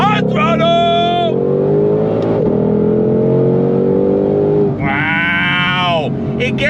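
A Ford Shelby GT500 Mustang of the S550 generation accelerates hard on throttle, its engine climbing through the revs with shifts between, loud and close from inside the cabin.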